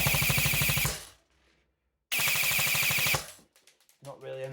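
Airsoft gun with a T238 brushless motor firing two fast full-auto bursts of about a second each, loud and close with a rapid even buzzing rate, separated by a pause, followed by brief talk.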